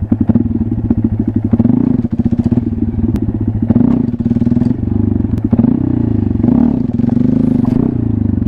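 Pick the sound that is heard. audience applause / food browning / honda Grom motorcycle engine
honda Grom motorcycle engine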